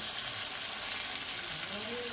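Fish sizzles in hot oil in a small kadai while being gently stirred, a steady close frying hiss with a faint scrape of the spoon.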